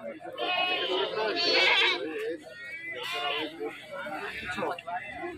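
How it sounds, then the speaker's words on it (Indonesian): Goats bleating at a rural livestock market in Wonosobo, Central Java, several loud close bleats in a row with people talking nearby. "Seperti ini kambingnya"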